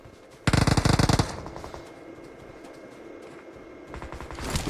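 Automatic gunfire in the BGMI mobile battle royale game: a loud rapid burst of shots lasting under a second, followed by quieter game ambience and another fainter burst at the end.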